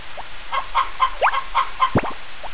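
Chickens cluck in the farming video game Harvest Moon: Back to Nature, a run of short, evenly spaced synthetic clucks with a couple of quick rising and falling chirps, clear and alone over faint game background.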